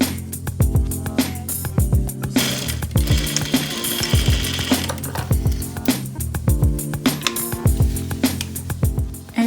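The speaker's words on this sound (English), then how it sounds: "So I'm at my sewing machine." A sewing machine runs in bursts of rapid mechanical stitching through fabric, pausing and restarting, with clicking and whirring up close and no talking.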